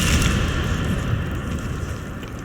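The Incendio fire spell cast in Hogwarts Legacy, a loud, continuous rushing roar of flame with a dense low rumble that holds steady for a couple of seconds without letting up.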